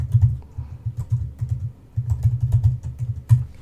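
Fingers typing a last name on a computer keyboard, close and distinct, quick bursts of key clicks with short pauses in an uneven rhythm.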